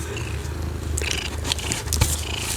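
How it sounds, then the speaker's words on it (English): A house cat purrs close by with a steady low rumble, joined by soft rustles and scrapes as a book is handled, with no talking. "let's read about it while Eddie purrs in y'all's ears"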